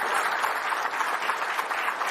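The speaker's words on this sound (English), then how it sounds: "I think we should have another round of applause for the car, for the drivers, for everyone." Audience applause at the McLaren 2022 Formula 1 car launch event, a dense steady wash of clapping from a crowd, sustained and fairly even with no speech over it.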